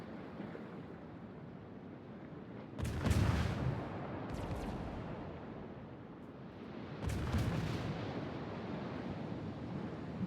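Warship gun barrages from a Des Moines and other ships firing on a Moskva in a naval video game, two heavy rumbling salvos with long roaring tails over a sea-like wash.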